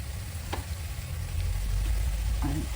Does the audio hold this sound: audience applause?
no